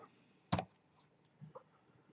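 A single crisp computer keyboard key press, the M key tapped while working in Fusion 360, comes as one sharp close click, followed by a few faint softer clicks in a quiet room.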